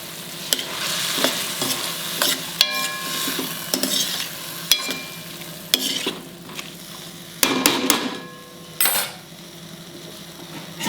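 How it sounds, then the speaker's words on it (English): Potatoes and mixed vegetables cooking in a pan, stirred with a metal spoon: steady sizzling broken by repeated scraping, clinks and clanks against the pan, close and fairly loud, no talking. "in between you have to keep opening and stirring it"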